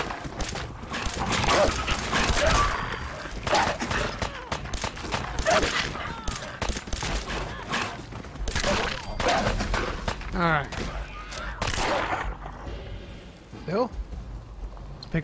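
Rapid bursts of gunfire in the video game Fallout 4 crack repeatedly and loudly throughout, with a voice talking over the shots.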